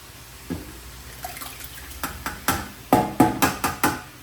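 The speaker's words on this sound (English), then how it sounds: "You can hear it deglaze off the bottom of the pot there." Crushed tomatoes deglaze a hot pot of beef chili mac, bursting into a run of sharp crackling spits that grow louder and come faster, several pops per second by the end, close up.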